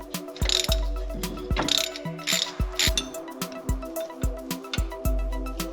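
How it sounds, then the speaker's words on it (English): A ratchet with an E8 socket works loose the ABS sensor on a 1994–2004 SN95 New Edge Ford Mustang, giving close, repeated metallic clicking strokes in a steady rhythm. "we'll get the ABS sensor out of the way as well with an E8 socket"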